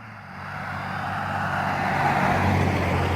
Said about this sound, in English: There's a lot of traffic out here.